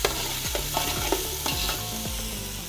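Whole spices crackle and fry in hot oil before rice goes in, a close sizzling bed broken by a spatula scraping the pan in regular strokes about every half second.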